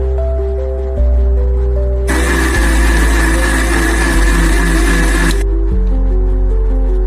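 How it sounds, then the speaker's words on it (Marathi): A mixer grinder blends a diet soup mixture in one loud, steady whirring burst of about three seconds, starting and stopping abruptly over continuous background music. "मिश्रण मिक्सरला लावून घेतलेलं आहे"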